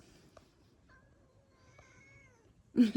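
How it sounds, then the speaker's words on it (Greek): A street cat on Mykonos in January gives faint, drawn-out meows in a quiet outdoor setting, followed by a sudden loud, close cry at the end. "Κάνεις μπάο μπάο του γάτου, αλλά μαζί κουβεντιάζεις κιόλας."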